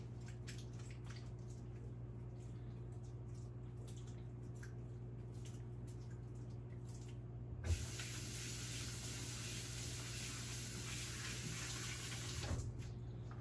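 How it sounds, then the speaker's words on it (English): Tap water runs steadily as hands are washed during burger and condiment prep in a home kitchen, a broad spray hiss that starts abruptly partway through and stops near the end, with faint clinks before it. "let me wash my hands."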